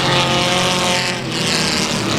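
Race car engines at the Rose Bowl speedway roar continuously, loud and dense, a sustained rumbling drone from several cars with no break.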